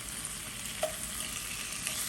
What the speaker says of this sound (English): we're frying up this pork belly